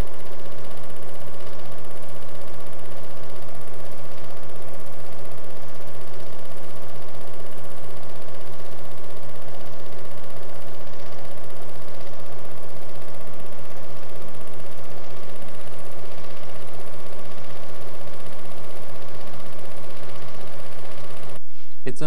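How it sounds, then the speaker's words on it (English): A sewing machine runs continuously while stitching small loops and circles around a design sewn onto fabric, a steady mechanical hum with a regular whirring pulse, close and loud from start to finish. "After I've sewn the design onto the fabric, I will then go all around it with what I call little E's"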